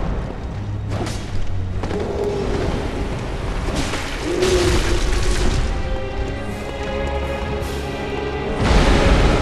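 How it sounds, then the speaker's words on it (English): A boss in Bloodborne unleashes an area attack, sending deep booms and heavy thuds rolling through a dense, loud wash of game sound, with a stronger impact near the end. No one speaks. "That sounds like an AoE attack."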